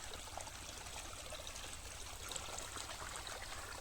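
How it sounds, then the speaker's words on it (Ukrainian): A mountain stream runs out from between large rocks, giving a steady, close rush of flowing and trickling water that fills the whole stretch without pause. "з яких витікає гірський струмок джерело"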